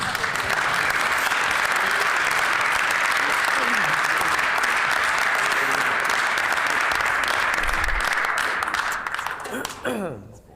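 Loud, sustained applause from a large crowd fills a legislative house chamber, then tapers off as a voice begins speaking near the end.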